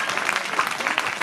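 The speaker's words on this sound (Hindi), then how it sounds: "वो तालियों की गूंज आज जरूरी है यहाँ पर मंच पर" Audience clapping at a Hindi kavi sammelan poetry recital, a moderate, even patter of many hands with small swells, heard on its own without any speech.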